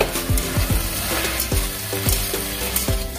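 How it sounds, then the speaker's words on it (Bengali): Sugar cooking in a pan with jute leaves and sweet potato gives a steady, close sizzle, broken by scraping stir strokes and clinks of a utensil against the pan. "চিনিটাকে 2 মিনিট রান্না করছি।"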